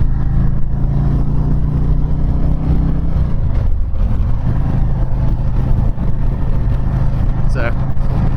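A 2019 Harley-Davidson Road King motorcycle rumbles along the road, its engine a loud, steady low drone close by, dipping briefly as the revs shift before settling back under constant wind noise.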